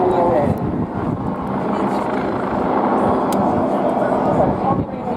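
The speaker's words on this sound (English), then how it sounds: "when they used the Westland Wasp helicopter, which many people would be familiar with" Westland Wasp HAS1 helicopter hovering at the Clacton on Sea airshow, a loud continuous rotor and turbine drone with slight swells, heard under an announcer's commentary.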